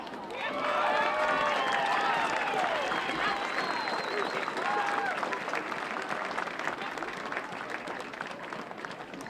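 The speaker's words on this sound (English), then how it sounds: "Let's have a big round of applause for them" Applause and cheering from a crowd greet the graduating North Penn Marching Knights at a community event, a dense steady wash of clapping with whoops and shouts on top, loud at first and easing slightly toward the end.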